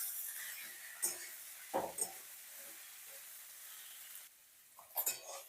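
Potatoes and chopped onion frying together in a pan, with a faint steady sizzle under intermittent scraping and clinking stirs from a utensil, and no talk.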